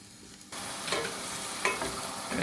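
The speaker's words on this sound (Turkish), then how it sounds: "Soğanın pişme seslerini duyuyorsunuz" Onions fry in a pot and are stirred, giving a close, steady sizzle with scraping strokes of the spoon against the pot.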